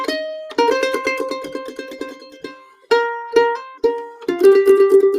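A short mandolin phrase played in a music workshop: bright plucked notes, some in quick repeated tremolo runs and some struck singly in a steady counted rhythm, close and clear with no talking.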